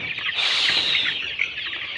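Chickens cluck and squawk loudly and close by on a farm plot, a dense, continuous flurry of overlapping calls with a few sharper peaks and no talking.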